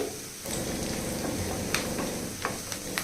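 Curry leaves and red chili frying in hot oil in a home kitchen, a loud steady sizzle with brief sharper crackles and spatters near the end.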